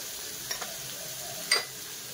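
Cloves, black pepper, cinnamon, coriander powder, turmeric, chili powder and goda masala frying in oil for masala rice: a faint, soft sizzle with a couple of quick stirring clicks.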